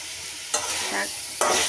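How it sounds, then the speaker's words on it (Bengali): Onion and garlic frying in a pan for a home lunch, with a steady background sizzle and two sharp scraping stirs about a second apart, close and clear with no talking. "এই জন্য পেঁয়াজ রসুন ভেজে নেব।"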